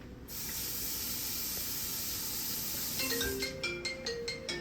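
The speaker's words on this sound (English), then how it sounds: "Let me rinse it." Tap water hisses in a steady, close spray while a freshly sharpened knife is rinsed, then breaks into a few uneven splashes and clinks toward the end.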